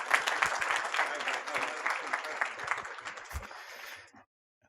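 An audience applauds a nervous guest onstage at a trauma teaching session, a dense steady clapping that carries for about four seconds, then stops abruptly into silence.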